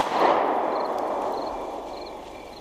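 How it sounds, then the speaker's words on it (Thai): A single gunshot fired from a window in a Thai audio drama gives a loud, close crack that fades through a long, reverberant decay. "เสียงปืนจากหน้าต่างก็แผดกล้องขึ้น"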